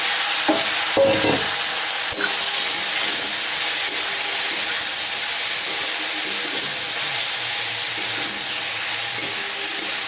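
Jujubes fry in hot oil with bay leaf and dried chilli, giving a loud, steady sizzle that runs throughout, with a few stirring scrapes near the start.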